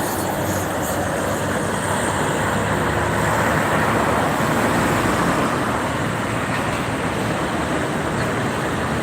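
Steady roar of heavy traffic on the Cikampek toll road at km 57 near a rest area, a continuous dense wash of tyre and engine noise with no pauses.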